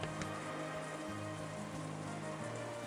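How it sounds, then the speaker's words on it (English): Steady wind and rain from the Umineko visual novel, a soft continuous wash of falling rain with no speech, holding at an even, quiet level throughout. "This dim light with the quiet sound of the continuing wind and rain really doesn't feel like morning's come yet."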